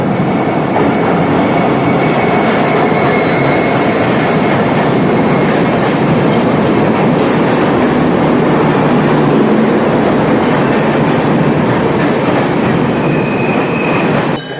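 A train at the New Tinsukia railway station platform rumbles steadily and loudly throughout, with a continuous dense roar and faint wheel squeal up close.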